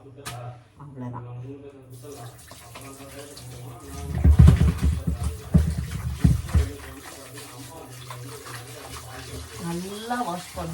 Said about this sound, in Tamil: நல்லா வாஷ் பண்ணணும் ஃப்ரெண்ட்ஸ் சிக்கன்லாம்.